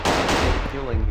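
Loud, close gunshots fire in quick succession in the video game Backrooms Buff Doge Horror, with a dense burst of rapid reports filling the brief moment.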